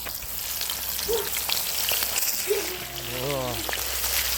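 Crucian carp frying in hot oil in a pan over a wood fire, a steady close sizzle and crackle running throughout, with a voice speaking briefly partway through.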